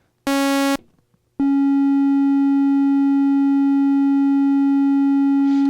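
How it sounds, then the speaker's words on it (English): Arturia PolyBrute 12 synthesizer playing a triangle wave with the brute factor turned off: a short steady tone, a brief gap, then one long sustained pure note, loud and alone. "let's turn the brute factor off. We just heard the saw wave. Let's listen to what the triangle wave sounds like."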